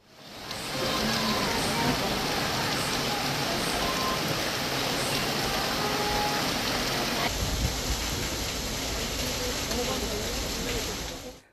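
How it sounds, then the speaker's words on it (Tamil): Heavy rain pours down steadily in Pudukkottai, a dense, loud hiss that holds throughout with a low rumble underneath and no voices. "புதுக்கோட்டையில் திடீரென கனமழை கொட்டியது"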